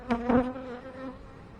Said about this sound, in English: there are a ton of bees in this hive.